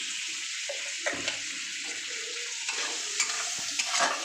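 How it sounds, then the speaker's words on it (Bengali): Crabs poured into hot oil and stirred for a crab curry, giving a dense continuous hiss and sizzle with occasional spoon knocks and scrapes against the pan. "এবার আমি কাঁকড়াগুলোকে ঢেলে দিলাম"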